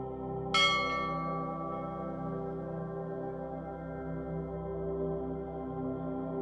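A single bell struck once with a sharp metallic onset, then a long, slowly fading ringing tone that lingers clearly for several seconds in otherwise quiet surroundings.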